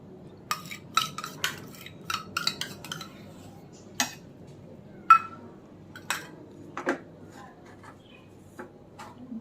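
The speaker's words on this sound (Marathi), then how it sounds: "आपण आता हे जे शिल्लक तूप आहे ते घालूया." Metal spoon clinks and scrapes against a pan while besan ladoo mixture is stirred with the remaining ghee, a scattered series of sharp taps and clatters at close range over a quiet background.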